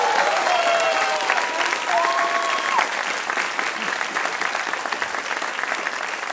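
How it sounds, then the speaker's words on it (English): Sustained applause from an arts festival audience, dense and steady clapping filling the space for several seconds, with a faint whistle-like tone rising early on. "Could we have a huge round of applause for Mr."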